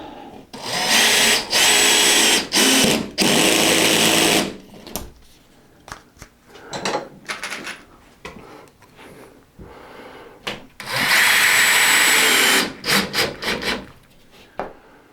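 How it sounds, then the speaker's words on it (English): A cordless drill driving screws into drywall whirs in loud bursts, each run lasting a second or two, separated by quieter handling and scraping noises, then another long burst. "I can probably set the clutch on this drill and hopefully not blow all these screws all the way through the drywall"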